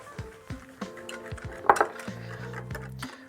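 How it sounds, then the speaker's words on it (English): Beer batter of flour, salt and beer being stirred in a bowl, giving a series of soft scraping strokes with light utensil clinks against the bowl, close up and fairly quiet. "And I'm gonna keep stirring this up."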